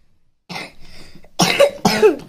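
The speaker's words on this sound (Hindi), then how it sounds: "देखो खांसी हो रहा है ना बेटा" A child coughs close by in a few harsh bursts, the last two louder and sharper, with quiet breathing between them.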